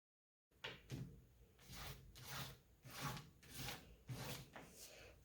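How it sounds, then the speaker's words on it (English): Finger rubbing chalk on paper in a children's craft session, a soft repeated scrubbing in several bursts about once a second, close and moderately quiet. "just take your finger and rub them all again, just a little bit"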